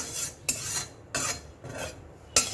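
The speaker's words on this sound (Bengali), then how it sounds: "তো কড়াইটাকে একটু ধুয়ে নিচ্ছি, পরিষ্কার করে নিচ্ছি" A kadai being scrubbed clean, heard as close rasping strokes against the metal surface in slow repeated bursts of about half a second, with short scraping clicks between them and no talking.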